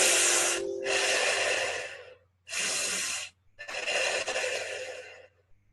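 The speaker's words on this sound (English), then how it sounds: "now breathe in, the sucking breath is so breathing in through a straw" Deep breathing in a guided meditation: two long, loud inhaled sucks as if through a straw alternate with forceful breathy exhales, close to the ear, in separate bursts with short silent gaps.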